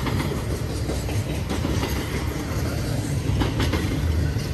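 A BNSF GE C44-9W Dash 9 freight locomotive and train rumble past at close range near the San Bernardino National Forest, a dense steady roar of rolling wheels with faint rhythmic clacking and a thin high squeal above.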